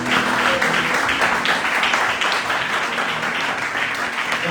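A congregation at a church service applauds, a dense, continuous wash of many hands clapping at steady volume, with voices mixed into the noise.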